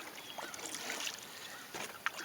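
A canoe paddled on Cowan Lake with a J stroke gives soft watery strokes and swishes, with a sharper splash near the end, close by amid light wind.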